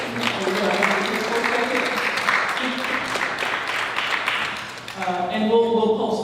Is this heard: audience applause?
yes